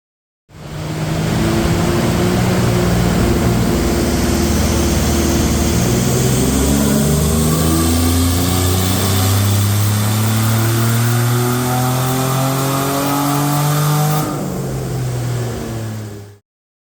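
A Nissan VG30 V6 in a Navara pickup runs on a hub dyno, engine droning loud and steady with harmonics climbing through a long pull before easing off near the end, alone without talk.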